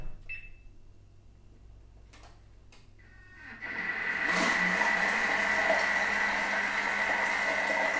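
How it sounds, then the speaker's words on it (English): A Thermomix mixing cheese and caster sugar at speed 3 starts after a few quiet clicks and settles into a steady, close mechanical whirring hum that lasts to the end. "And program a minute and a half at speed 3."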